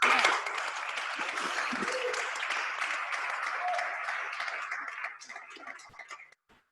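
An audience at a launch event for work on a white paper about heritage digitization gives sustained applause, a dense wash of clapping that holds steady before thinning out and stopping near the end.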